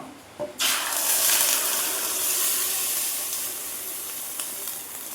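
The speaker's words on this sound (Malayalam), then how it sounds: "ഇവിടെ കുക്കർ നല്ല ചൂടായിട്ട് ഇത് ആവി വരുന്നുണ്ട്" Steam hissing steadily from a pressure cooker heated on a full flame, a loud broadband rush that starts abruptly after a brief pause and continues without break.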